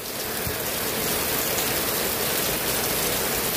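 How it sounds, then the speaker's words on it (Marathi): Heavy downpour at a poultry farm in Madhevadgaon, a dense, steady roar of rain pounding surfaces close by, continuous and unbroken with no voices. "आपण फक्त पाऊस पडलाय ना, फक्त पाहायचंय."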